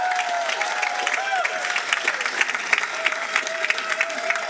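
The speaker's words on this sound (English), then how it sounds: "Yes, clap for yourselves." Steady applause from a crowd at a university graduation recognition ceremony, dense clapping that holds at an even level throughout, with a few voices audible underneath.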